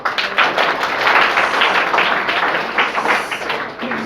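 A group of students clapping at a workshop, a loud, dense burst of many hands applauding steadily for a few seconds before thinning out.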